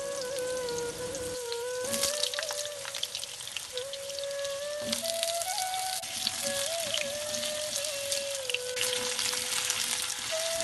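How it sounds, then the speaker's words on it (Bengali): Potato pieces frying in hot oil left over from frying pointed gourd in a kadai, a constant dense sizzle and crackle with a steady tone running underneath. "এবার ওই পটল ভাজার তেলের মধ্যে আমি আলুগুলোকেও ভেজে নিচ্ছি।"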